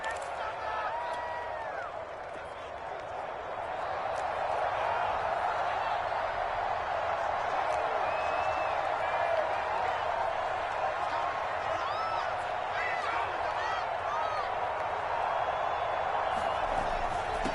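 A dense stadium crowd roars and cheers steadily at the close of a Super Bowl–clinching win in a football video game, a continuous wash of noise that swells slightly after a brief dip near the start and holds loud throughout.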